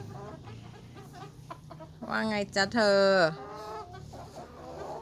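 An egg-laying chicken in Bang Pahan, Ayutthaya, Thailand, clucks loudly and repeatedly at close range, in a rising, drawn-out burst, while a person speaks softly before and after.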